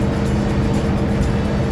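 Steady engine and road rumble from inside a 1957 Chevrolet Bel Air cruising smoothly on the road, loud and even without any voices.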